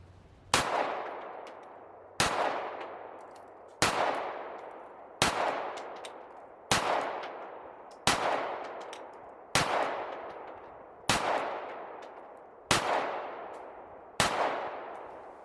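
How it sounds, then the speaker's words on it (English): A Sig P365 Compact 9mm pistol fires ten sharp, loud shots at a steady pace, each about a second and a half apart, and each crack ends in a short decaying ring. "So let's do a little more shooting."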